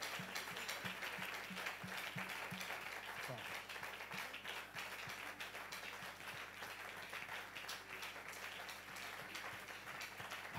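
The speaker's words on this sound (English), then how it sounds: "Can you give the Lord a clap?" A church congregation claps together during a fasting and prayer service, a steady dense patter of many hands filling the room, with talk and some rhythmic beats running underneath.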